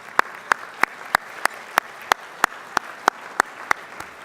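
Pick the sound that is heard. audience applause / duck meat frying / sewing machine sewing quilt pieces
audience applause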